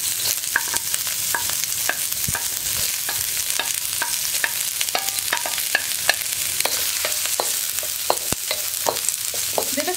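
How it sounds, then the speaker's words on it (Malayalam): Chopped garlic, green chilli and onion fry in hot oil in a pan, a continuous bright sizzle broken by frequent sharp scrapes and clicks of a spoon stirring, loud and close with no voices. "ഇനി ഓയിലൊന്ന് ചൂടായി വരുമ്പോൾ നമുക്കിതിലേക്ക് നമ്മൾ ചോപ്പ് ചെയ്ത് വെച്ചിരിക്കുന്ന വെളുത്തുള്ളി, അതുപോലെ തന്നെ പച്ചമുളക്, സവാള, ഇത്രയും കാര്യങ്ങൾ ചേർക്കുക."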